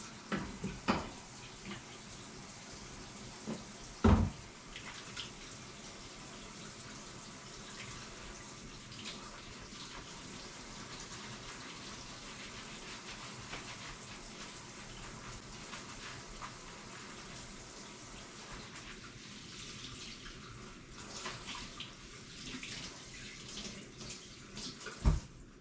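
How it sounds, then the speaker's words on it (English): A kitchen tap runs steadily while hands are washed at the sink after preparing stuffed bell peppers, a continuous faint gush with a couple of brief knocks near the start and end. "Washing my hands, wash my hands."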